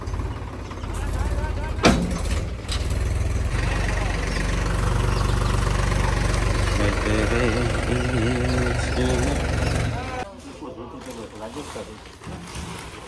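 A tractor engine rumbles steadily at idle, a low continuous drone that cuts out near the end, with someone talking over it.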